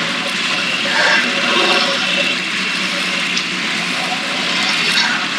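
A truck in the Spintires off-road game drives through water, a continuous loud sloshing, splashing wash mixed with engine drone, steady throughout with no speech.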